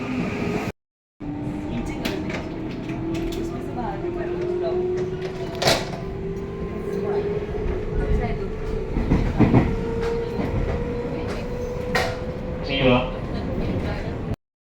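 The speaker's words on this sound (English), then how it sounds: "a train is going to come and is going to go to Nara" A train rumbles and screeches along the rails as it pulls into a platform in Japan, with a long squealing brake tone and clacking, while a person talks nearby.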